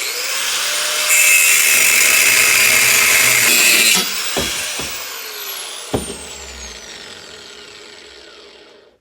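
A power tool cuts thick-walled steel tubing while a clutch job is done on a Steiger Bearcat tractor, giving a loud, steady high-pitched grind for about four seconds before it winds down with a few short knocks and clanks.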